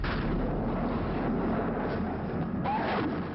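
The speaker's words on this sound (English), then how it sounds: "2 Argentinian fighter bombers swept in on a deadly bombing run." Bomb explosions from two Argentinian fighter bombers attacking ships in the 1982 Falklands War, a loud continuous rumbling barrage of blasts heard close.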